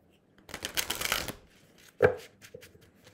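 Cards shuffled for a tarot-style card reading: a close riffling burst lasting about a second, followed moments later by a single sharp tap of cards on a surface.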